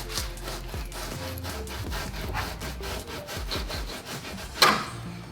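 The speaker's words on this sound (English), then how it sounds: "you're gonna literally slide your knife through" A fillet knife slides and scrapes through a walleye on a cutting board, giving a steady run of close, raspy strokes with one sharper scrape near the end.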